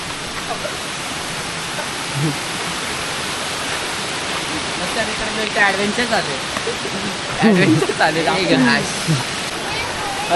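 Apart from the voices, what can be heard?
waterfall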